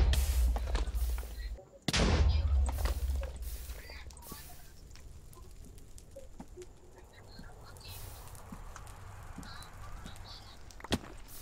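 Blocky bed explosions in the Nether of Minecraft while hunting for Netherite: a cluster of sharp bursts in the opening seconds, then quieter scattered pops and clicks with faint talk over a low background.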